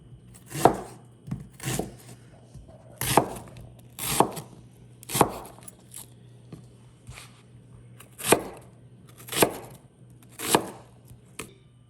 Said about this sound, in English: So now what you want to do is slice you up 1 red onion